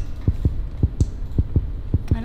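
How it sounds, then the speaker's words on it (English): Steady heartbeat thumps pulse in the horror video game Granny, a regular low throb at about two beats a second over a droning hum, with a brief faint voice near the end. "Why can I hear my heartbeat?"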